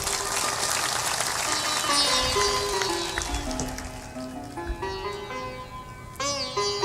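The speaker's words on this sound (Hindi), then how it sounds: "थोड़ा जोर से ताली बजाया करो।" An audience at a Hindi spiritual discourse claps together, a dense patter of applause that gradually thins and fades, with sustained musical tones from an instrument running beneath it.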